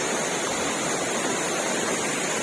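The tall, multi-tiered Mae Pan waterfall in Chiang Mai roars as a dense, constant rush of falling water, close and loud, with no voices.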